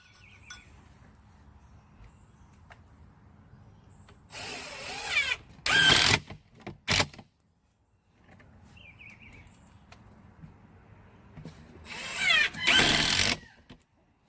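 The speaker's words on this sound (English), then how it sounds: "I'm just going to go around with some little short screws like this size right here, and I'm just going to put a couple of screws around each corner" A power drill drives short screws into the corners of plywood while a chicken picnic table is built, in two separate bouts of buzzing whine with brief pauses between them and quiet gaps in between.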